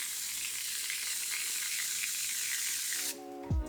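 Hair mousse sprays out of a pressurized can in one long, steady hiss lasting about three seconds, then stops, followed by a brief foamy crackle and a soft tap.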